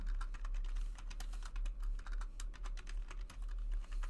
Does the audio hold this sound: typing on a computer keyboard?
yes